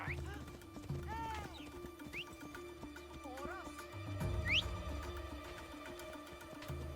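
Horse hooves in the Assassin's Creed Odyssey video game clop in a steady, even rhythm, with a few whinnies and game sounds over them and a voice speaking now and then.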